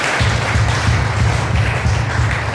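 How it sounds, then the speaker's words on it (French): A church congregation at a Sunday service claps loudly and steadily, the dense applause carrying a regular rhythmic pulse underneath that suggests clapping along in time. "Et puis nous allons applaudir ça pour nous homme qui vont nous balader."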